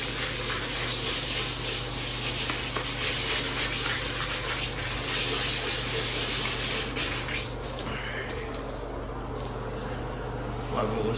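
Sandpaper of 60 grit scrubbing across a bathtub's surface during refinishing, a steady, continuous abrasive rasp close by that runs the whole time and eases slightly near the end.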